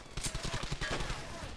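Rapid close bursts of enemy rifle and machine-gun fire in the World War II shooter Brothers in Arms: Hell's Highway, a quick rattling string of shots lasting the whole brief moment.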